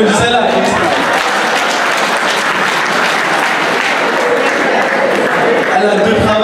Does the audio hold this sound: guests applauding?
yes